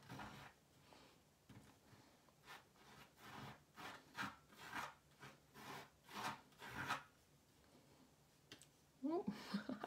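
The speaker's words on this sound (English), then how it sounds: "So I'm just going to scrape some of my modeling paste through my stencil" Modeling paste is scraped through a stencil on an art journal page in repeated soft, rasping strokes that come in a steady rhythm, quiet and close, followed by a brief rattle at the end.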